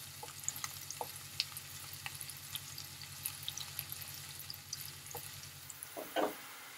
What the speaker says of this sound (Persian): و پیاز های رو که قبل خوردشون کردیم داخل روغن میریزیم. کمی تفت بیریم تا پیاز ها